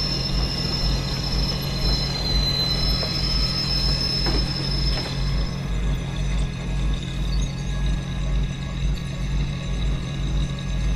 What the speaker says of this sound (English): Westbound train arriving shortly.